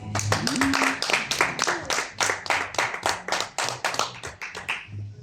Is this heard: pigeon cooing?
no